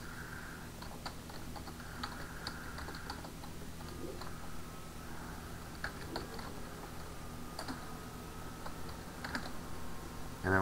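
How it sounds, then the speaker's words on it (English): Typing a Linux terminal command on a computer keyboard, a steady run of light key clicks at close range with a faint background hum, no voices. "So now I'm going to type ln and then the name of the file."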